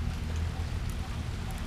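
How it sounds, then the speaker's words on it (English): Rain begins falling at Phatthalung railway station in southern Thailand, a steady wash of patter over a low, constant rumble, moderate in level with no clear voices. "the rain is starting to come down now"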